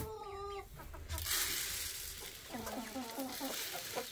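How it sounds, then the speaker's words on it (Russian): A hen on a farm clucks in short repeated bursts, close and fairly clear, with other fowl sounds and rustling around it and someone talking briefly. "Вот эта курица."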